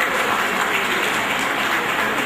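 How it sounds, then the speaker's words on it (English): Steady, dense applause from an audience at a graduation certificate ceremony, a continuous wash of many hands clapping at an even level for a couple of seconds with no voices over it. "Claps, please, from Heck Jane."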